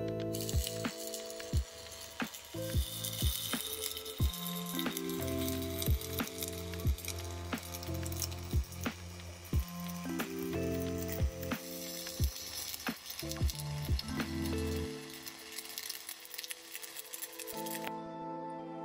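MIG welding with a 75-25 argon dual gas mix gives a long, steady close crackle and sizzle full of sharp irregular pops, running almost the whole time before cutting off near the end.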